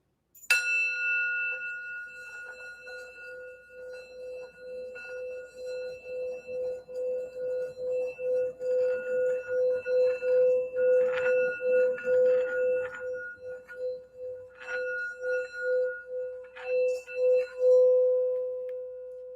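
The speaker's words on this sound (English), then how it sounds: "we want to hear the sound bell" A bell is struck, then its clear sustained tone rings on and slowly wobbles, with a few light taps and clinks along the way.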